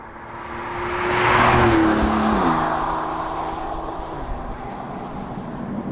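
A Porsche 911 Turbo S of the 992 generation drives past, its engine note swelling to a peak around the middle, then easing into a steady hum that carries on beneath broad road and wind noise, with no talking.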